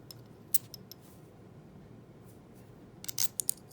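Metal clicks and scrapes from an Apollo stainless steel safety razor as its single head is twisted and opened, a few sharp ticks early on, then a quiet pause before a cluster of close, crisp metallic clicks near the end.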